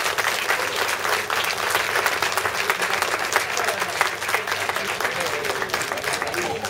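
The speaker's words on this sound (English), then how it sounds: "can we please have a big round of applause for the head honcho" Sustained applause from a conference audience welcoming Peter Knipp on stage, a dense steady wash of many hands clapping that holds loud and even throughout.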